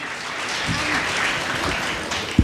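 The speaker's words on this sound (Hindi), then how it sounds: "जोरदार तालियां" Audience applause for a contestant at a state-level quiz competition in Chhattisgarh, steady moderate clapping from a crowd, with a sharp thump near the end.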